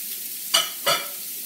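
A hamburger patty cooking in a pan over a gas flame gives a soft, even hiss, broken by two short bursts of louder sizzle or scraping close by, with no voices.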